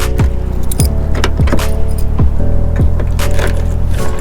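A key turns freely in the faulty door lock of an R32 Nissan GTR, giving a series of light, evenly spaced clicks and scrapes over a steady, loud engine hum.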